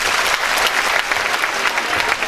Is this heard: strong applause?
yes